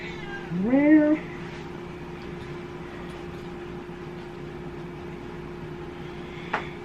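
A house cat lets out one loud, rising meow close by, followed by a quiet room with faint background hum and a small click near the end.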